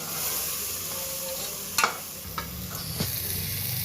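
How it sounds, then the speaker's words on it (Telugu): Rice mixed with chili powder stirred in a pot for biryani, a steady sizzling hiss with a few sharp scraping knocks of the spoon near the end, close and alone. "ఒక 2 టేబుల్ స్పూను ఉత్త మిరప్పొడి వేసుకోండి, బాగా కలపెట్టుకోండి."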